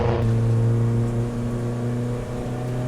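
Onboard engine of a Ford Focus racing at Donington Park, a loud, steady, high-revving drone that holds at a constant pitch throughout, heard alone without speech.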